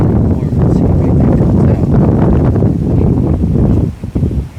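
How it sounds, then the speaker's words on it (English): Strong wind buffets the microphone outdoors on a late-season hunt in a thick, cold spot, a loud continuous roaring rumble with gusty surges that drops briefly near the end. "Really windy"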